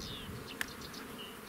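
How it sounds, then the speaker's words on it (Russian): Honeybees buzzing around an open hive during a colony transfer to a new hive, a soft, steady drone with a single sharp click partway through. "Так, ну этих пчел сейчас я стряхну."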